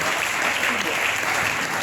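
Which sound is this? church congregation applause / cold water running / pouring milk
church congregation applause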